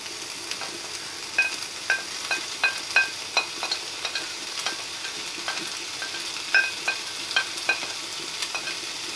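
Bacon frying in its own fat in a pan, a steady close sizzle broken by repeated sharp crackles and spits scattered throughout, with no talking.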